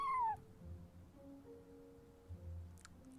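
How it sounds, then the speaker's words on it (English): A cat in a video game gives one short, clear meow at the start, followed by faint tonal game ambience and a few soft incidental sounds. "What a friendly feline."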